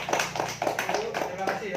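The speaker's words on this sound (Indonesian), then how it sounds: "Jadi kasih tepuk tangan dulu untuk Novi dan Rizky ya." Children clapping in a classroom for two classmates who presented an interview, a short burst of rhythmic claps mixed with a teacher's voice.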